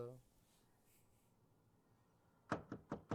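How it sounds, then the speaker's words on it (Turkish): Four sharp knocks on a door in the Alan Wake video game, evenly spaced and close, following a quiet stretch with a brief voice at the start. "Kapıyı tık tık."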